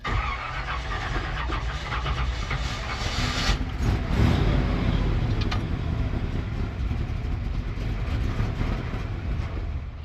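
A 1969 GMC truck engine starting for the first time in 30 years, then running with a steady, rough mechanical drone and a brief surge partway through, close and loud with no talking.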